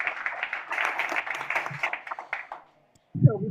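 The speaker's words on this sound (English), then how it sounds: "let's give a round of applause to this amazing panel discussion" Scattered clapping from a small group over online hangout microphones after a panel discussion, a rapid patter of claps that thins out and stops, followed by a brief low thump.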